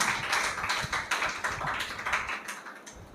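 A congregation at a Sunday church service claps together in a steady, rhythmic beat of sharp, evenly spaced claps that carries on throughout.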